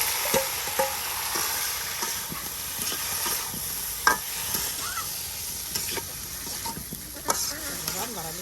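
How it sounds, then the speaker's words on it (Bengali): Garlic sizzles in hot oil in a pan while being stirred, a steady frying hiss broken by scattered clicks and scrapes of the spoon against the pan. "এখানে আপনার রসুনটা একদম ভাজা ভাজা হয়ে গেছে"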